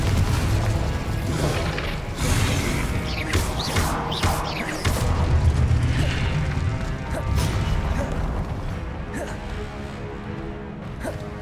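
Explosive Confringo spell blasts in the video game Hogwarts Legacy, a relentless stretch of booming, crashing impacts and combat clatter layered over deep rumbling, loud and dense throughout.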